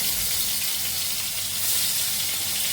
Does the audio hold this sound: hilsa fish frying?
yes